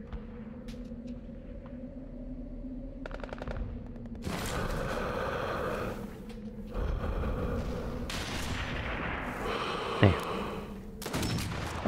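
Gunfire from the Sniper Elite V2 Remastered video game breaks out in several dense, rumbling bursts and rattling volleys over a steady low drone, with one sharper crack near the end.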